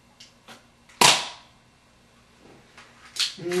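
A single sharp crack from an airsoft P22 pistol, close and loud, preceded by faint clicks and followed by quieter handling taps.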